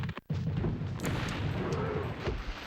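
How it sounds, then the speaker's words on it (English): Ammunition explodes in the PS1 game Spyro 2: Ripto's Rage, with a few sharp booming bursts over a dense, busy game soundtrack and no voices. "make sure you don't get caught up in the explosions of any of the ammunition"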